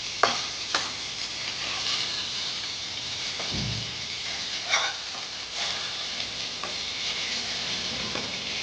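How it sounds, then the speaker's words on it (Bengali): Boal fish sizzles steadily in a pan over a medium gas flame as it is flipped, with a few sharp clicks and scrapes breaking through the constant crackle. "এক পিঠ ভাজা হলে অপর পিঠ উল্টে দেবো, আর গ্যাসের ফ্লেমটাকে মিডিয়ামে রাখবো"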